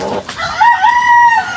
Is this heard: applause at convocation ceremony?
no